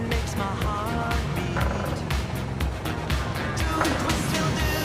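A car's worn-out brake pads give repeated short scraping squeals as the vehicle brakes, with a clattering, rumbling undertone close by and no talk.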